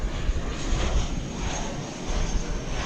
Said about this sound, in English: This is an Airbus A320